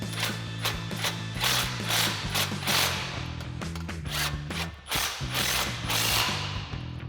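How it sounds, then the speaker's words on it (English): A ratchet with a 14mm socket and swivel adapter tightens the spring bolts on a Tacoma exhaust system, clicking rapidly and steadily close up. The ratcheting runs in continuous strokes with no voices. "now we'll tighten our two spring bolts down with our 14mm wrench and our 14mm socket and swivel"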